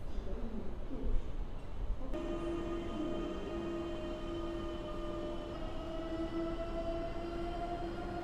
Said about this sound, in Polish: Dziwne odgłosy wydaje ten impuls na linii S2.